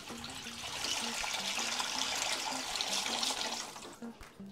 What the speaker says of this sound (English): put this in some water